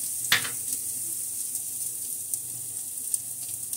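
Garlic sizzling in hot oil in a pan for pork caldereta, a steady, fairly quiet frying hiss running throughout with a brief louder crackle near the start.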